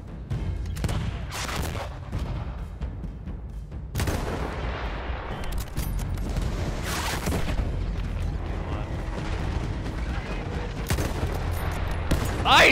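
Gunfire from the World War I shooter Battlefield 1, repeated loud shots and bursts with booming impacts across a busy battlefield soundscape, close and sustained.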